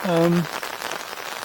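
Rain a little heavier than drizzle falls around a car park fishing pool at Offord, a steady soft patter filling the clip after a brief tonal sound at the start.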